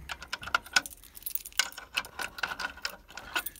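A bunch of keys jangles and clinks close by while someone checks for them during an alarm system test, with continuous metallic rattling broken by sharper ticks.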